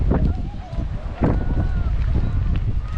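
Gusty coastal wind on Corfu buffets the microphone in low, rumbling surges, with voices talking over it.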